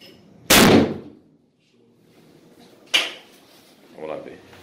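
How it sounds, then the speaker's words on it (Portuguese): One loud, sharp gunshot crack at level 3A armored glass with a short ringing tail, followed by a softer knock and brief voices. "Último tiro. O tiro central de misericórdia."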